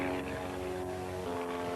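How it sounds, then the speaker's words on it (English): A Pitts S2 aerobatic competition biplane flies at a 1985 air show, its propeller engine a steady, fairly faint drone heard from a distance. "the Pitts S2 is the competition aircraft being used here today"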